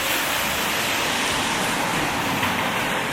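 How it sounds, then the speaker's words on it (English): Car tires hissing over a rain-soaked street in Germany, with a steady, broadband spray of water under the passing traffic that stays continuous and fairly loud and never breaks into separate passes. "definitely hear the water coming off the tires."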